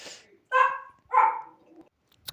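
Minecraft dog (wolf) barking in a survival game, a few short separate yips and barks within a couple of seconds, moderately loud and close, with no talk over them.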